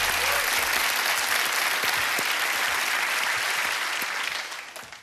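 Dense audience applause from a studio crowd greeting a quiz contestant, steady and full for several seconds before tapering off at the end, with no talking over it.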